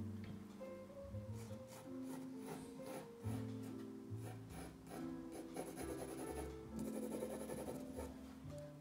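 A kneaded eraser rubs across drawing paper during a pencil sketch of a stainless steel bowl, with soft, faint scratchy strokes under steady background music.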